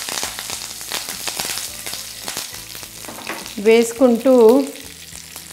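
Mustard seeds, fenugreek and curry leaves sizzle and crackle in hot oil with rapid popping bursts, and a voice speaks briefly near the end.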